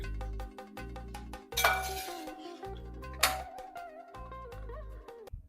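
A metal pot of Onam kalan with raw banana and yam is stirred and then covered, giving a few sharp clinks and clanks of utensil and lid over soft, steady background music.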